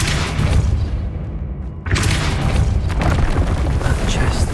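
A Depulso force spell fires in Hogwarts Legacy on PS5 with a loud, booming blast that cuts in sharply after a brief dip. Dense rumbling noise carries on behind it.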